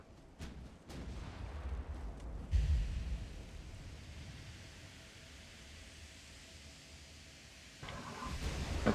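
Warship guns firing in the naval battle game Ultimate Admiral: Dreadnoughts, heard as a few deep booms early on over a steady rumbling wash of noise, with another heavy report building near the end.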